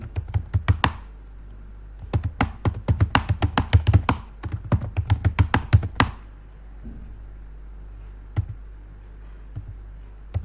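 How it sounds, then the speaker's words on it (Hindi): Typing text into a LibreOffice Writer document on a computer keyboard produces several quick bursts of close, distinct key taps, then a pause broken by a few isolated taps. "उसके बाद मैं इसमें कुछ भी टाइप कर सकता हूँ"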